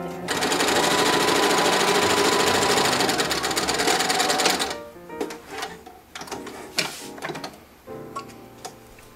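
A sewing machine stitches fabric for a children's teddy bear hospital gown, running in a loud, fast, steady mechanical chatter for about five seconds before stopping, followed by scattered handling clicks and thumps.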